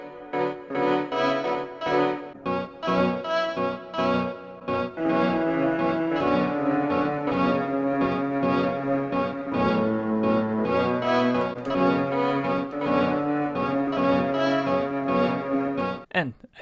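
Sonicware Liven synthesizer playing a continuous stepped sequence with a randomized step warp effect, dense tonal notes shifting in pitch and texture, loud and steady throughout with no talking.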